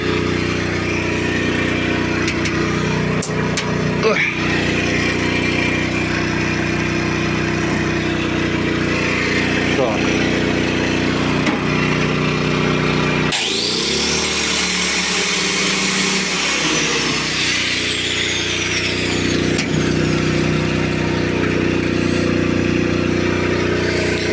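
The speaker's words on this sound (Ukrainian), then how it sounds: "Під'їдаємо паралельно болгарку. Так, Її потужність 950 Вт." A 950 W angle grinder running continuously at close range, a loud steady whine with a change in tone partway through as the load shifts, no speech.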